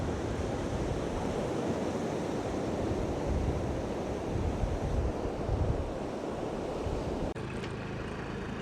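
Steady surf rolls and washes along a beach near Uppada, a continuous broad rush of waves with some wind buffeting the microphone and no voices.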